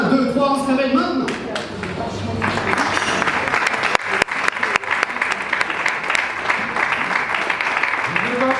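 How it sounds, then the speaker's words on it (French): A live cabaret audience at a hypnosis show applauds a performer named Johan, giving sustained dense clapping that swells after a brief opening and continues steadily, with a voice speaking over the start. "On peut applaudir Johan"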